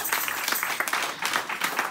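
Church congregation applauding during a sermon, a sustained patter of many hands clapping at moderate distance, fairly soft and even.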